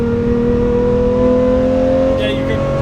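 A straight-piped 710 hp rear-wheel-drive Lamborghini holds a loud, steady, droning engine note, close and sustained with strong low tones, under light background chatter.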